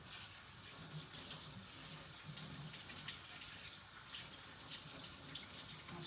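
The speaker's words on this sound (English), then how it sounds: "So, let me rinse my hands." Water runs steadily from a kitchen tap while hands are rinsed, a continuous close splashing hiss lasting throughout with no talk.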